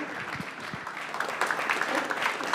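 An audience at a Bitcoin Treasuries conference in New York applauds as a panel is introduced, dense continuous clapping building in the room, with a presenter's voice faintly over it at the start.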